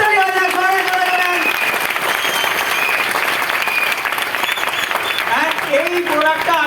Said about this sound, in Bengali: দোয়েলের জন্য একবার জোরে হাততালি হয়ে যায়, জোরে জোরে জোরে।